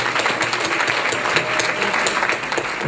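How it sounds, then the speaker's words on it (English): Steady, loud applause from a gala crowd, continuous clapping filling the whole stretch without a break. "give a welcome round of applause to Rebbetzin and Rabbi Goldschmidt."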